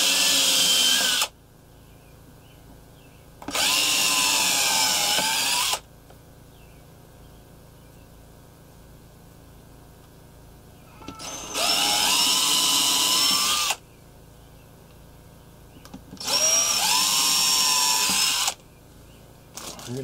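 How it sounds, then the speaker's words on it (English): A power drill pre-drills holes in a wooden speaker cabinet being modified for new woofers: four loud, close bursts of whining drilling, each a few seconds long, separated by quiet pauses, with no talking. "let's pre-drill the five holes that we've marked"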